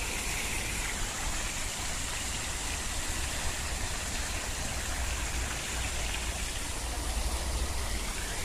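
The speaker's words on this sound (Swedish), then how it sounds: "Regnet har tyvärr börjat falla trots att solen skiner." Steady rain falls in sunshine at Rossio Square, Lisbon, with a dense, even hiss that holds constant throughout, with no voices.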